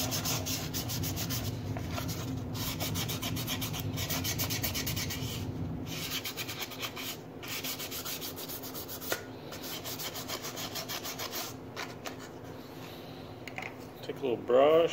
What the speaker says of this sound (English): I just take a little piece of sandpaper, kind of smooth things out a little bit.